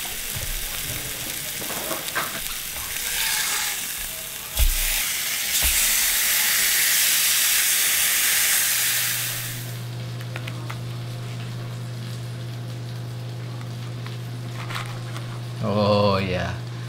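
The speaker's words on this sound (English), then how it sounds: "that's how you cook a steak right there" A steak sizzles and hisses loudly in a hot pan for several seconds, then fades to a quieter background fry under a steady low hum, with a brief burst of clatter near the end.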